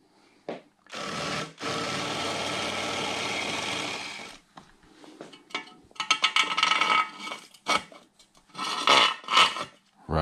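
A power drill bores a 12 mm pilot hole on a Royal Enfield Meteor 350 bobber project, one sustained whirring run of about three seconds, then short stop-start bursts of grinding as the bit bites.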